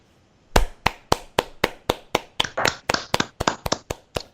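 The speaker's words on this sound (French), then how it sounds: "Applaudissements, chapeau." A single pair of hands claps sharply and close, about a dozen distinct claps in a fairly even rhythm, loud and isolated with no crowd or talk.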